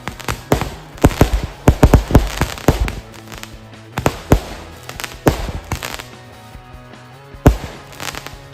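Firecrackers of many kinds go off for New Year, a rapid irregular string of sharp bangs and pops, some close and loud, others softer, with brief lulls between bursts.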